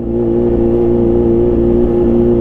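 A Kawasaki Ninja H2 motorcycle engine, revved to the limiter at a wedding, holds a loud, steady high-rev drone with a tight harmonic whine, sustained throughout without letting off.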